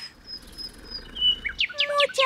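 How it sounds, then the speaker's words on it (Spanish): Magical little bird in an animated children's cartoon, giving bright, high chirps and tweets that start sparse over soft background and turn into a quick run of rising trilled calls toward the end. "pajarito mágico."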